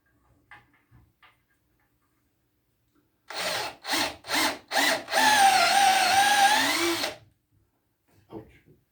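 A drill bores a peg hole through a piece of wood for a rocking chair's rockers, starting in four short bursts before one sustained run of several seconds, close and loud, with quiet gaps before and after.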